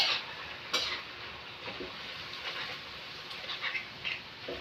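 Sardines frying in a pan give a steady, close sizzle with scattered stirring clinks and scrapes, and a sharper metallic tap near the start; no one talks.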